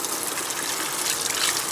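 Very hot water gushes from a tap under the Dubai sun, a steady close rushing stream with a broad, even hiss and no pauses.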